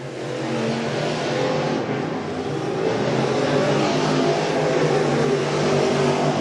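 Race cars in a PCRA Pro Crate race circle an oval track, engines droning steadily and loud throughout, with several cars blending into a continuous roar and no break.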